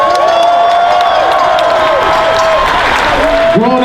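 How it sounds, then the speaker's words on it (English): A crowd claps, cheers and whoops at a San Francisco rally honoring George Floyd. The applause is loud and steady, with raised voices and shouts rising over it. "Please give him another round of applause."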